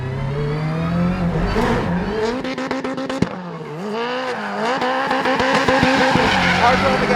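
A rally driver's 862bhp Subaru Huckster spins on throttle, its engine rising and falling in pitch while tires squeal and skid in long screeching bursts, with a sharp bang partway through and voices talking over the noise.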